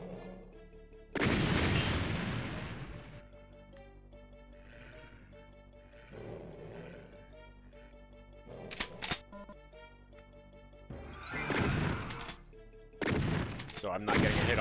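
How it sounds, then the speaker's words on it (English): Loud bursts of Doom explosions and gunfire erupt repeatedly, with a person talking over the action between the blasts. "Explosions!"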